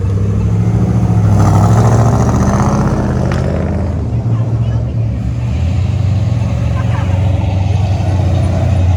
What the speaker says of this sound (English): That's the sounds of tires spinning.